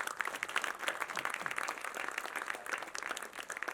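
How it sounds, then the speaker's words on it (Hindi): Audience applause at a film promotion event, a quiet, steady patter of many hands clapping that continues without a break for several seconds. "जोरदार तालियां बजाओ"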